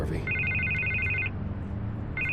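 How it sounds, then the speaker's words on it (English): A phone in the Batman Telltale Series video game rings in two bursts of rapid electronic trills, close and clear over a low ambient hum. "I can't get the phone to stop ringing."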